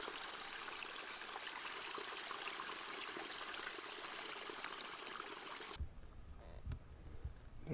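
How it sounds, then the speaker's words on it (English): Running stream water on a fall black bear hunt, heard as a steady broadband rush that holds close and even for most of the clip, then drops away to quieter outdoor sound with a few thumps near the end. "Just lucky the water was here and that it's running"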